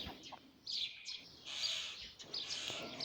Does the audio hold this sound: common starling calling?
yes